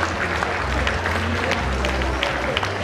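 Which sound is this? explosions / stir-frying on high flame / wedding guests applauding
wedding guests applauding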